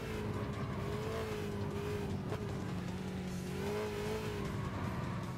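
An Alpine Vision Gran Turismo race car in Gran Turismo 6 at Circuito di Roma drones along with a loud, steady engine note that rises and dips with shifts and light revving, with brief tire noise.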